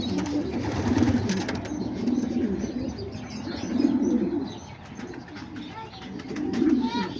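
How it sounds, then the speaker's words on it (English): Homing pigeons in a loft give soft, repeated throaty coos in pulsing phrases, close by, with scattered faint chirps and a low voice speaking in the background. "he looks like he's gonna be one nice little pigeon"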